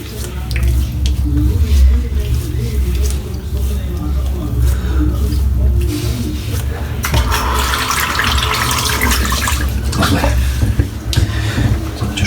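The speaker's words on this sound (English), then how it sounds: "Rinse the soap off for the next person" Tap water runs into a sink while a shaving brush is rinsed, a continuous splashing rush that grows brighter and fuller partway through, with some low-frequency handling noise underneath.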